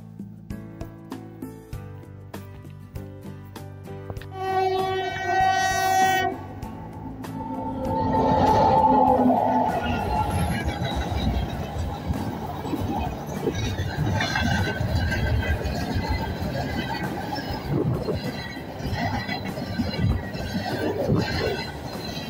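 A train rumbles past close by, its heavy rolling roar swelling and then holding steady for many seconds, with a brief tonal horn-like note just before.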